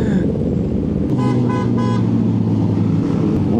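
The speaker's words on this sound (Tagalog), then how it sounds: "Gulat ako kung ano yung bumubusina" A vehicle horn honks in three quick short bursts, close and loud, over a steady engine and road drone during a group motorcycle breakfast ride, with a Kawasaki Z H2 supercharged bike in the group.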